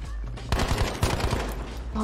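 Rapid bursts of automatic gunfire from a shooter video game, loud and close, rattling in quick successive volleys after a brief quieter lead-in.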